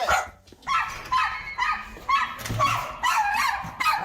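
Several house dogs bark insistently at visitors entering a multi-dog home, a steady run of loud, close barks and yips with brief pauses between volleys.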